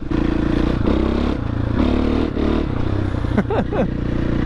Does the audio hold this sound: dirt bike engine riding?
yes